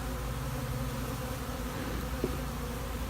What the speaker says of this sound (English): We're going into the big hive now.